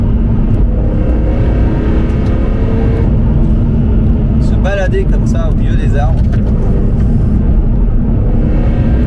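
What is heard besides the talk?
CSL car engine resonating while driving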